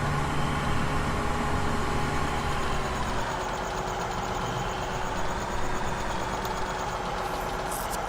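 A tractor engine idles and runs steadily in Farming Simulator 17, a continuous mid-low drone with a faint whine, unchanging and fairly close throughout.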